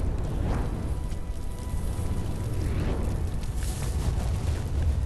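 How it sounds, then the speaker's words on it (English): A sustained, rumbling explosion roars through a room in an Arknights story scene, loud and continuous with crackling bursts, no voices over it. "The explosion engulfs the room, devouring the graceful balance of light and shadow."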